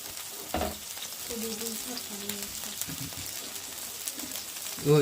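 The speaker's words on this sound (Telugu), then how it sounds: "పక్క పెనం మీద ఏమో పచ్చిమిరకాయలు టమాటాలు వెల్లుల్లిపాయలు వేపుతున్నాం" Green chilies, tomatoes and garlic fry in a pan, giving a steady close sizzle with a few scraping stirs and a louder clatter at the end.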